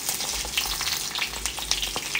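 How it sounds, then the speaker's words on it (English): Salmon frying in a hot skillet with butter and olive oil, a dense, even crackling sizzle with tiny pops, close and steady with no voices. "it is past time to put the salmon in."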